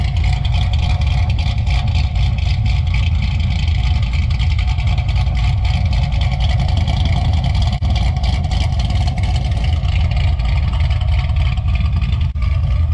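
LS3 V8 car engine with a Spinmonster 230/234 cam and basic bolt-ons, tuned, idling with a loud, steady, deep rumble and choppy lope held close and continuous throughout.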